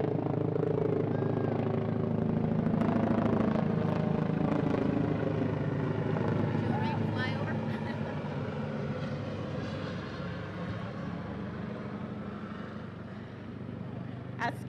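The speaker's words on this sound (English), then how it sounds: "Schedule that flyover at just the right time" An aircraft flyover at an outdoor high school graduation ceremony, a loud droning engine roar that swells early and slowly fades over about fifteen seconds, with faint crowd sounds and murmuring voices beneath.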